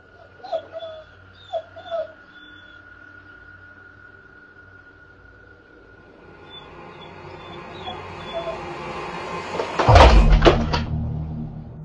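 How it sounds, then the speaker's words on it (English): Two dogs whine softly in a quiet room beside a dresser, a few short high whimpers early on, followed by a louder thump or knock near the end. "After a moment, the dogs start whining, looking around the dresser."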